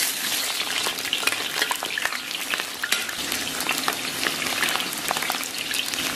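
Chopped scallion and ginger frying in warm oil in a wok, a dense crackling sizzle with scattered sharp pops and stirring scrapes, close and continuous with no talking.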